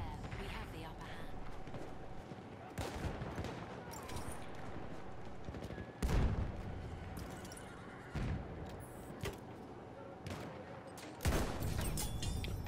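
Sniper gunfire in a video game, several loud sharp shots spaced a few seconds apart over game ambience, with a horse whinnying and hooves clopping nearby.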